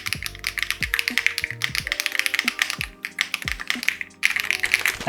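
Typing on a GamaKay TK75 Pro aluminium mechanical keyboard, with brisk, close clacking keystrokes in an uneven rhythm, a short pause partway through, and quiet tonal music playing underneath.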